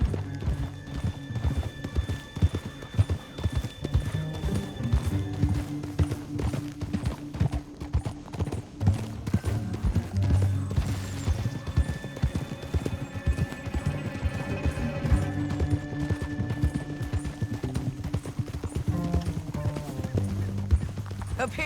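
Horses gallop at speed in Red Dead Redemption 2, their hooves drumming in a steady rapid clip-clop throughout, mixed with game music and ambient sound, with snatches of a voice in the background.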